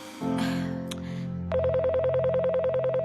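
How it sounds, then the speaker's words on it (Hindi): A telephone rings with a steady electronic warble of rapid repeating pulses, loud and close, coming in after a short humming tone and sustained clicking at the start. "ये देखो, फोन बज रहा है।"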